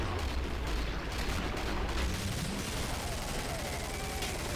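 Assault rifle gunfire in the video game Killing Floor, loud and dense, as a continuous barrage of rapid shots and blasts with a few mechanical clicks.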